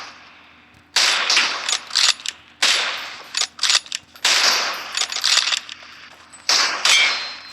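Gunfire in the battle-royale shooter PUBG Mobile during a one-on-one match: repeated loud bursts of shots in several clusters, sharp cracks with brief gaps between volleys, no talk.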